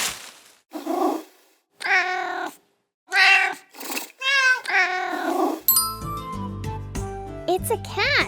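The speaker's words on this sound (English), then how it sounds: "It's a cat." Several cat meows, some drawn-out and wavering, come in separate bursts in the first half, followed by a bright jingling, tinkling tune.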